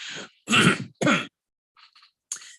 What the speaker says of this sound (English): Pardon me, I'm going to clear my throat again.